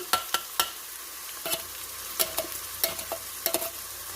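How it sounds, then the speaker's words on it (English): Tomatoes sizzle in a pot of hot roux for beef goulash as a spoon scrapes the bottom with repeated quick clacks and strokes over a soft, steady hiss. "I'm going to add the tomatoes to pick up the roux on the bottom."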